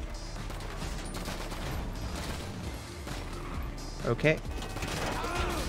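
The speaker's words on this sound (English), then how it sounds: "Oh, okay, machine pistol. I've never used this gun before." Machine pistol gunfire in Grand Theft Auto Online, with rapid shots under game noise and a brief louder cluster of bursts near the end, while a player talks over it.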